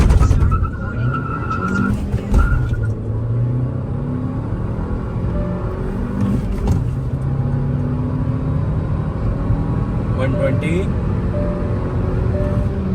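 Stage 1 tuned 2024 Hyundai Verna Turbo with a manual gearbox launches and accelerates hard, its engine roaring steadily close by for the whole stretch with brief tire squeal, while someone talks over it.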